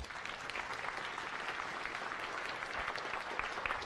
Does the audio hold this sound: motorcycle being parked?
no